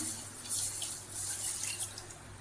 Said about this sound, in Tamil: பச்சை பயிரை நம்ம வறுத்துட்டோம் இப்போ ஒரு தடவை தண்ணி ஊற்றி கழுவிக்கலாம்